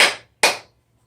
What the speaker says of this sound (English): you just hang the hammer like so and give it a few taps